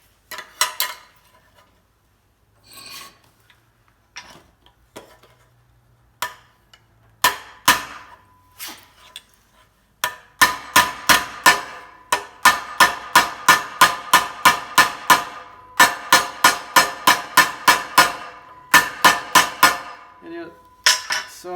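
A hammer strikes a sheet metal corner patch for a 1950 Plymouth truck opening, sparse taps at first, then a fast, even run of sharp ringing blows, loud and close.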